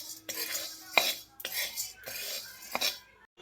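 A metal spoon scrapes and clinks against a hot pan as sago pearls are roasted and stirred over a low flame, several sharp separate scrapes and knocks close up with short gaps between them.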